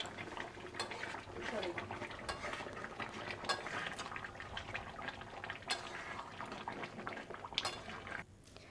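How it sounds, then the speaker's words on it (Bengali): Chicken masala is stirred and pressed in a pan as it cooks down, a continuous close scraping and clinking of a utensil against the pan with a soft simmering bed beneath. "এইভাবে বারে বারে চাপা দিয়ে দিয়ে কষিয়ে কষিয়ে রান্না করতে হবে"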